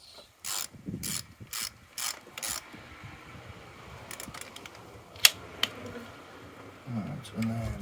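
A spanner ratchets on the battery terminal of a Corsa B car: several quick bursts of close, clicking ratchet strokes, then quieter metallic fiddling with a couple of sharp taps.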